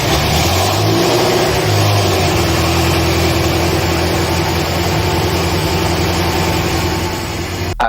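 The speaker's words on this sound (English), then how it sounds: "came time to start the F10 M5 for the first time" A BMW F10 M5 with its S63 engine firing up after a rebuild, then revving loudly and steadily up close, a dense mechanical roar that holds through the whole stretch before cutting off abruptly at the end.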